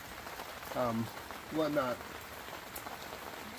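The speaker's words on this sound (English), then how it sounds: "we're going to enjoy the rain in this Deerfamy gazebo tent" Steady rain patters on a Deerfamy Hub gazebo tent during a long downpour, a soft continuous hiss under a person speaking briefly twice.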